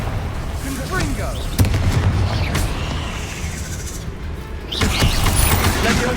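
Explosive Confringo spell blasts in Hogwarts Legacy, two sharp booming hits a few seconds apart over a steady rumbling game din, with brief clicks and faint voice-like bits between them.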